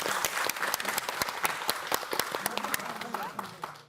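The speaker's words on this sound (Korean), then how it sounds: "박수" A studio audience breaks into applause at a televised lecture, a burst of individual claps, fairly sparse and distinct at first, fading slightly toward the end at moderate loudness.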